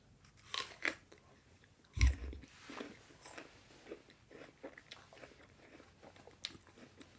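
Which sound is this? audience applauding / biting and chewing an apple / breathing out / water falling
biting and chewing an apple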